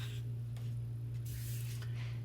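Gold color shine spray paint sprayed through a stencil gives several short, close hissing bursts over a steady low electrical hum.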